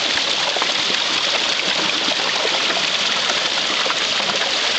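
Water rushing steadily through a micro hydro water wheel built on a 20-inch bicycle rim, a loud, close, continuous broadband splashing roar with no pauses or voices.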